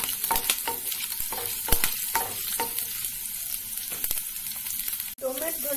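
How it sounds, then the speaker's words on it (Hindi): Garlic cloves drop into hot oil for a spicy momo chutney, crackling and sizzling close up with sharp spatters and stirring taps, then a clunk near the end. "ऑयल हमारा गर्म हो गया है, इसमें मैं लहसुन डाल रही हूँ।"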